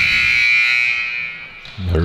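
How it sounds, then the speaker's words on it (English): A loud, sustained electronic buzzer at a high school basketball game in a gym, blaring steadily for nearly two seconds before crowd and court noise rise at the end. "There's the buzzer."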